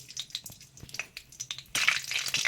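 Panch phoron and black mustard seeds hitting hot oil: a faint crackle with light stirring knocks, then a louder, denser sizzle bursting up in the last second.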